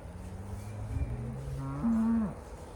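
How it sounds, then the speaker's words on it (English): Cows out in a farm field moo in low, drawn-out calls, one rising to a louder, higher bellow near the end, heard fairly close with no talk. "Can y'all hear them mooing?"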